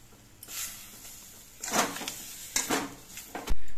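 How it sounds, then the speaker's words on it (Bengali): A kadai is set down on a gas stove in a home kitchen, giving a few metallic clanks and scrapes, with a sharper knock at the end over a quiet background. "এবার গ্যাসটা ধরিয়ে একটা কড়াই বসিয়ে দিচ্ছি।"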